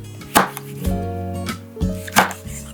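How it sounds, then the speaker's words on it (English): Kitchen knife slicing a chili diagonally into rings on a cutting board, a handful of crisp separate taps over a faint background hum, close and without talk. "Slice the chili diagonally into rings."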